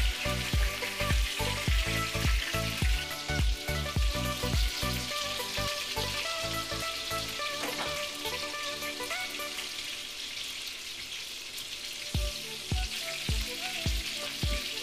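Barley-flour meatballs fry in a pan until very dark, a bright steady sizzle with rhythmic thumps and knocks of turning and stirring, close and unaccompanied by speech.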